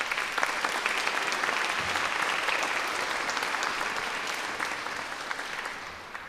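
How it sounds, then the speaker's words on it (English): Audience applause fills a historic central library building during its 100th birthday celebration, dense steady clapping that is fairly quiet and distant, tapering slightly toward the end. "Let's give them a round of applause."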